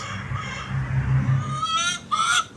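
Honking, squawking chicken calls at a garden coop rise over a low, steady rumble of background noise, a couple of sharp calls near the end.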